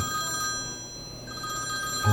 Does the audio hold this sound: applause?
no